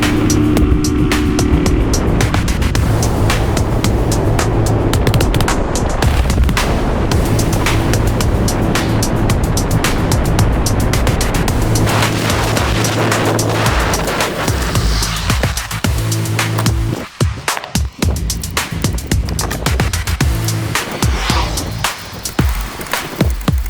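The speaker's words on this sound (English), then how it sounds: "you're gonna get it up real high in the RPM and then kill your kill switch while you're up high in the RPM" A CB300RL motorcycle with a Nibbi PE30 carb runs hard at high revs, a loud, steady engine roar mixed with rushing wind, then the engine is killed and the bike coasts on with wind noise and rattles.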